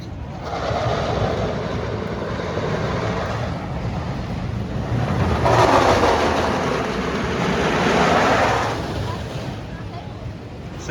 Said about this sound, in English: the train is being sent